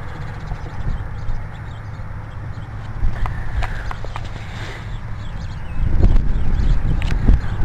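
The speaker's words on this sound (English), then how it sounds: "Lincoln's horse-drawn cart or buggy found the Sangamon River easiest to cross at Bryan's Ford." Horse hooves pulling a buggy clip-clop in a steady rhythm over a constant rumbling background, growing a little louder toward the end.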